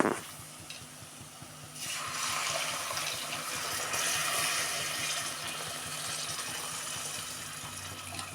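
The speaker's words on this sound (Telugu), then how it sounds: "ఇప్పుడైతే చింతపండు పులుపు అయితే పోసుకుంటున్నానండి." Tamarind juice poured into a simmering fish curry, a steady close liquid pour and trickle over a soft bubbling, sizzling background.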